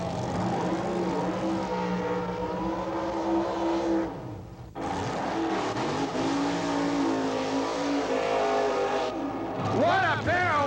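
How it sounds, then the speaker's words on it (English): Supercharged Wild Bunch drag racing cars, one with a fuel-injected aluminum Chevy engine, do burnouts at a 1987 drag race: loud, continuous engine roar with revving swells and a brief dip midway. "What a pair of wild burnouts by these crazy Wild Bunch cars."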